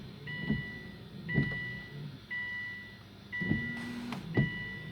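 Windshield washer fluid pump motor on a Subaru, heard from outside the vehicle: five short whirring bursts about a second apart, each with a faint tonal whine, fairly quiet and close.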